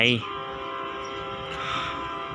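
Thai special express train 962 passing, opening with a short horn blast, then a steady rumble and rail clatter from the passing cars.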